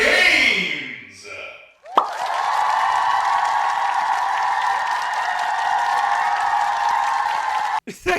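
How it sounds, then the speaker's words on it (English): An audience bursts into loud, sustained applause and cheering for a speaker introduced as the next TED Talker, holding steady for about six seconds before cutting off abruptly, with brief voices and noise just before it starts. "Thank you so much for the applause."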